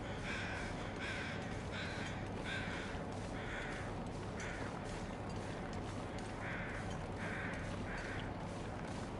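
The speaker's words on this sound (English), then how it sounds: "And those birds flying away" Crows caw in the video game The Long Dark as birds fly away, a series of harsh caws spaced out over a constant windy background rumble.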